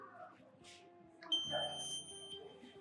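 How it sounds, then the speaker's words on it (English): A Schneider Electric Wiser smart home water leakage alarm sounds with steady electronic tones after a quieter start, moderately loud and close, with faint room noise underneath. "I receive an alarm. It's called a water leakage alarm."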